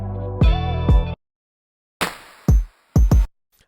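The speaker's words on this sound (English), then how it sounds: "add a bit crusher that's around a 6k hertz" Drum group run through a 6 kHz, 16-bit bit crusher at fully wet: gritty, aliased hits in short bursts, a sustained tone then several clipped, crunchy drum strikes separated by silence.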